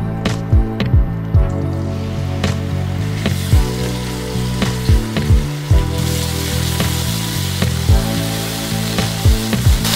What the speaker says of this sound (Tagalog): So, lagay tayong olive oil. Then, lutuin natin yung chicken.